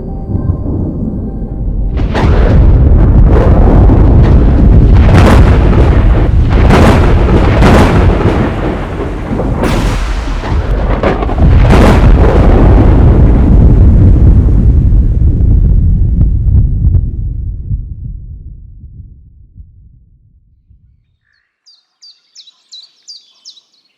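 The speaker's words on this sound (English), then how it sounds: "it is raining and massive thunder claps, as you might be able to hear in the background" Massive thunder claps roll and crack loudly over steady heavy rain at a lake campsite, several sharp peaks across twenty seconds before the storm fades into quiet, with faint bird chirps near the end.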